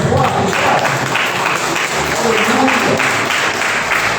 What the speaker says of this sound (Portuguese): Vai aplaudir ao Senhor.